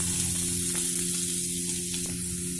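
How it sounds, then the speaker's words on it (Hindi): Chopped onion sautés over a low flame in a pan for lemon coriander soup, giving a steady, close sizzle with a faint hum underneath and no talking. "और इसे भी अच्छे से सौते करेंगे।"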